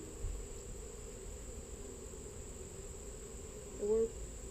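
Bees hum during a beehive inspection, a faint steady insect drone under constant background noise, with one brief closer buzz near the end.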